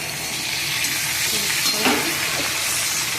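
Pre-fried chicken pieces being stirred in a frying pan, giving a steady, close sizzle with soft scraping strokes and a brief louder stir near the middle.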